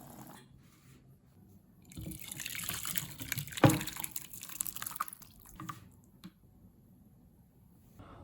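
Tomato and tofu soup simmering in a pot of boiling water, with a steady wet bubbling and dripping texture that swells in the middle, including one sharp splash or clink, then settles to a quieter simmer.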